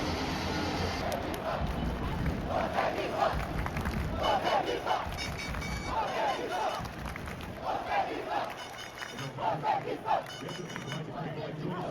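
A crowd of Uzbek football fans in an indoor arena cheering excitedly: loud, continuous roaring and chanting with rhythmic rising shouts repeating every second or so, dense and close throughout.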